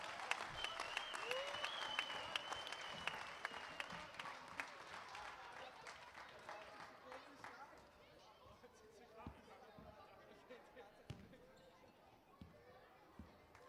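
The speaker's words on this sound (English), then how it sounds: "Great job and an applause." Applause from spectators and players at an indoor international under-13 baseball tournament, with thick, steady clapping for about seven seconds that then thins out into scattered claps and thuds in a large echoing hall.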